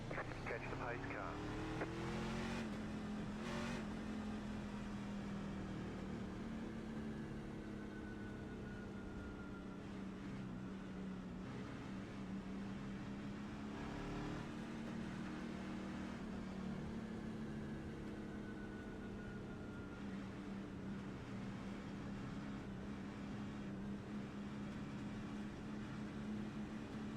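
Race cars in the iRacing simulator circle behind a pace car, a continuous engine drone that rises and falls through gear changes, steady and moderately loud throughout.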